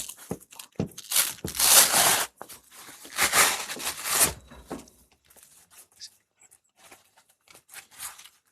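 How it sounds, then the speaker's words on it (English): Velcro is pulled apart on a plate carrier cummerbund in a few loud, rasping rips, followed by quieter handling noises. "We love hearing that Velcro."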